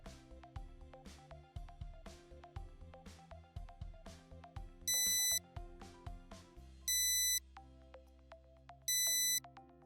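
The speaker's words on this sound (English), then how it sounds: "your device will alert you audibly and visually when the temperature of your environment exceeds the high alarm" A Traceable Excursion-Trac data logging thermometer alarm gives three short bursts of rapid electronic beeping, evenly spaced over a backing of rhythmic music.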